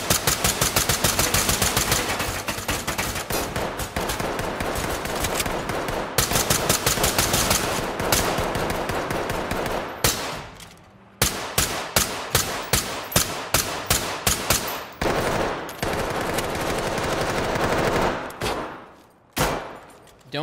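Rapid automatic gunfire from the tactical shooter game Ready or Not, long continuous bursts of loud clattering shots broken by brief pauses and short separated volleys, with no talk over it.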